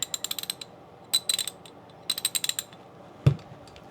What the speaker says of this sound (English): and a Craftsman 3/8 drive, USA. All round heads, all pretty good ratchets.